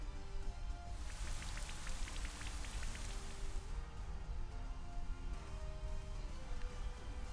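Steady rain from the Rain Dance move in a Pokemon Z-A video game, a continuous close patter of drops with light pinging splashes, holding even throughout with no talking.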